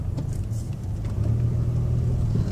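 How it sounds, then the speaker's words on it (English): A 2005 Dodge Caravan wheelchair mobility van with 114k miles rolls down a ramp at about 55 mph, giving a steady, close engine drone and low road rumble throughout, with no talking. "Coming down this ramp about 55 miles an hour here."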